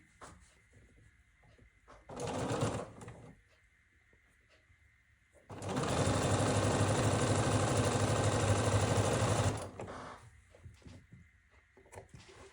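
A sewing machine stitching quilt pieces together, a short burst of running needle followed by a longer steady run of about four seconds, close and fairly loud, with quiet gaps between.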